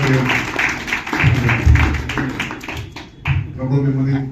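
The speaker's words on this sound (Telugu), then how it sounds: "చప్పట్లు కొట్టండి" An audience claps along at a church harvest festival auction during a Sunday evening service, dense rhythmic clapping over a loud hall with voices mixed in.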